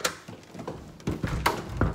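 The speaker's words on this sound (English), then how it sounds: "Open this door." A house door is opened with a few close thuds and rattling clunks of the handle and frame, followed by a louder knock and a shuffling sound as it swings, with no voices.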